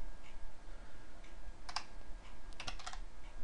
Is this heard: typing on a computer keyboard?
yes